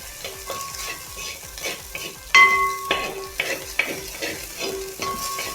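A spatula stirs and scrapes chicken fried rice around a sizzling pan, with steady frying hiss and repeated sharp metallic clinks and scrapes close up.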